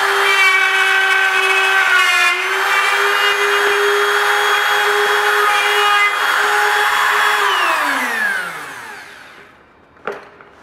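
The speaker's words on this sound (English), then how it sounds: "This is the bevel type 45 degree slot cutting machine." A bevel-type 45 degree slot cutting machine cutting uPVC profile: a loud, sustained whining motor drone with a slight pitch step partway through, then winding down and fading, followed by a brief knock.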